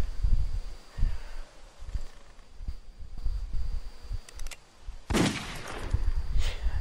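Gunfire in The Walking Dead video game, with a loud close shot cracking out partway through among low thumping impacts and rumbling game ambience, no speech.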